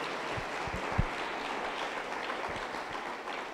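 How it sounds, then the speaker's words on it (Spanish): Applause from a congregation at a Pentecostal church service, a steady wash of clapping with a few sharper claps standing out, moderately distant and fairly quiet throughout. "Aplauso contento para Jesús"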